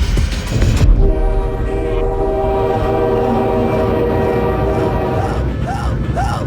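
A train arriving in the game Blood, sustained loud horn blast over rumbling, clattering rail noise, with a sharp start and the tone fading into continued wheel rumble and squeals.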